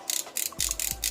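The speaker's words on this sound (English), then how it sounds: "My ratchet on the side is getting a little weaker, but the set's getting older" Ratchet joints on an aging Mastermind Creations Bovis transforming figure click in quick rapid bursts, several short trains of sharp plastic ticks heard up close with no voices.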